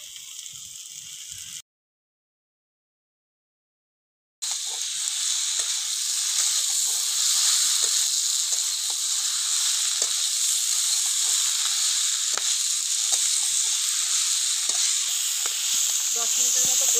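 Chopped Malabar spinach goes into a hot pan with ginger and fries with a bright, steady sizzle that follows a brief silence, loud and close, with occasional stirring clicks and no talking.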